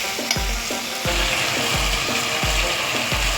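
Fried potatoes being stirred into a Bengali bata fish curry in a pan, with a broad frying sizzle throughout and a regular series of scraping strokes, about one per half second, close and fairly loud, with no talking.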